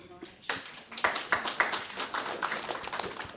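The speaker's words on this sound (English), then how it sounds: "Round of applause." Audience applause at a seminar for fire officers and first responders: a short burst of scattered claps from a small indoor group, several distinct sharp claps leading into steady clapping, with a voice speaking underneath.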